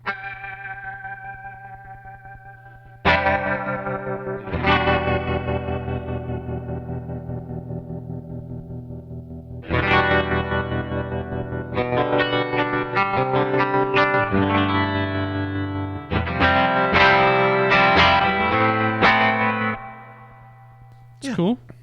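Guitar run through an effects pedal with stutter, chorus and a touch of reverb: chorused, distorted notes and chords ring out in bursts with short choppy stutters and reverb tails, at steady loudness, and no voices.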